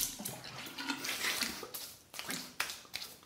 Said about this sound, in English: cold water rinse on the face.